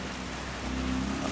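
Rain in a sim racing video game hisses as a steady, broadband wash with a low rumble beneath it, swelling slightly toward the end of the brief stretch.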